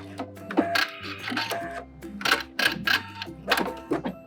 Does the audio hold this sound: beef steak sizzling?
no